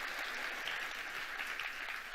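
A church congregation applauds during a sermon, a brief, dense wash of many hands clapping at once, steady and fairly distant without a break.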